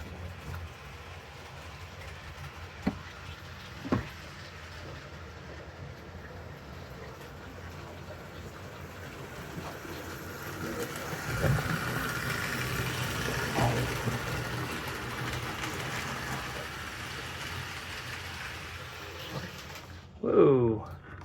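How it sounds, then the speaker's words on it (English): A 1955 American Flyer #307 toy train locomotive runs steadily, slower than normal, with a low mechanical hum, a few clicks along the way and a brief clatter near the end. "let's go ahead and get some video of your engine running"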